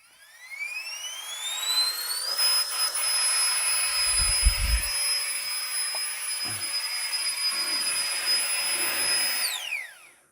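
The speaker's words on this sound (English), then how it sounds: "double tap to turn the pump on" An electric air pump whirs up to a steady high-pitched whine, runs for several seconds with faint handling bumps, then winds down.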